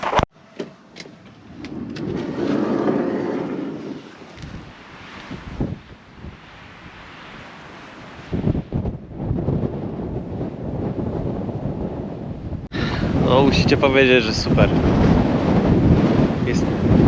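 Heavy wind buffets the microphone in loud, rumbling gusts that rise and fall, with a person talking briefly amid the noise, outdoors beside a parked bus in Bosnia.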